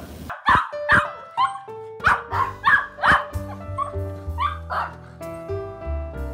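Dogs bark excitedly up close, a run of loud, sharp yips and barks in quick succession that trail off into softer whines and whimpers, with no talk over them.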